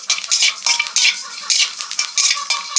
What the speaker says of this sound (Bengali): মৌরিটাও হালকা ভেজে নিলাম